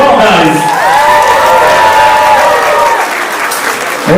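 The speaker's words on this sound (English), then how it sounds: "a big round of applause for the family and friends that just entered" Loud, sustained applause fills a wedding reception hall as family and friends enter, dense clapping with some crowd noise and a voice speaking over it.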